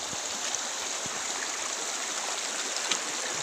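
A strong river current rushes steadily, a dense, even wash of flowing water close by with a few faint knocks and splashes, no voices.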